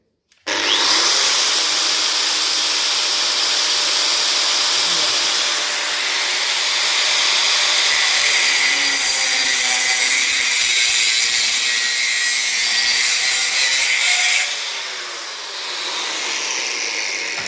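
A power tool being tested for its rated output, such as an electric drill, starts up and runs unloaded at idle with a loud, steady high whine that holds for about fourteen seconds before dropping slightly in level.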